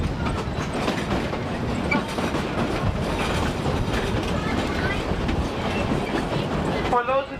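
The Georgetown Loop Railroad train in Colorado's Clear Creek Valley rolls along the tracks with a steady rumbling clatter and squeaking wheels, close and continuous, ending in a brief screech.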